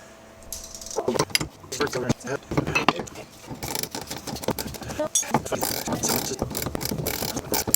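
A ratchet wrench tightening the transmission shifter linkage on a Jeep XJ Cherokee, quick clicking bursts with metallic clanks and tool handling up close, a voice talking briefly alongside.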